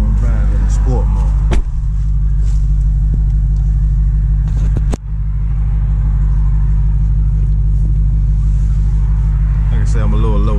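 2019 Dodge Challenger SRT Hellcat Widebody driven in sport mode, a deep steady engine rumble heard from inside the cabin with a couple of sharp thumps, while someone talks over it.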